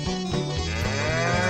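Cartoonish cow moos from the video game Mother sound in a quick series of low, stepped lowing calls, loud and clear with no talk.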